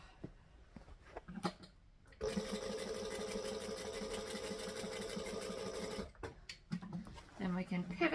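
A sewing machine stitches a fabric panel in one loud, even run of about four seconds, stopping abruptly, with someone talking briefly before and after it.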